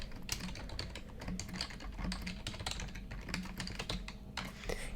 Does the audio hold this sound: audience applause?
no